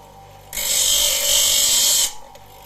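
A powered sharpening machine grinding the can opener of a SOG PowerPint multi-tool, a loud, close, steady high-pitched whine that switches on abruptly, holds for about a second and a half, then cuts off, no talk.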